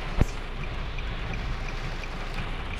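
Heavy rain hits a car driving through the desert near Al Ain, U.A.E., a steady wash of rushing hiss with one short thump near the start and no talking.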